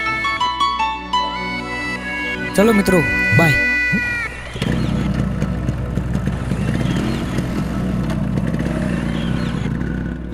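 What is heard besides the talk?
motorcycle being self-started and ridden off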